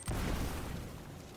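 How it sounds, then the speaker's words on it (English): Grenade explosion in the Uncharted video game: a sudden heavy boom with a dense rumbling tail that stays loud and sustained for over a second, with no talk. "Oh, that is a grenade."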